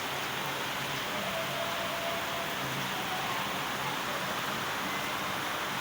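Heavy rain pours outside a school, a dense continuous hiss of downpour filling the scene at steady loudness with no distinct voices.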